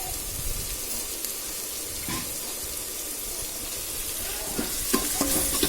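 Salted sorrel leaves (pulicha keerai) are stirred in a pan, giving a steady soft sizzle with a few light scrapes near the end.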